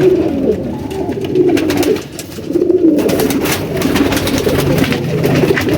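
Kasuri pigeons in an open loft setting give repeated low rolling coos up close, with a brief dip near the two-second mark and soft flapping or rustling clicks afterward, no voices.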